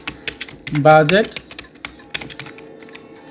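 Rapid clicking keystrokes on a computer keyboard while working in MS Excel, a run of close, crisp taps before and after a brief spoken word, then a few scattered presses.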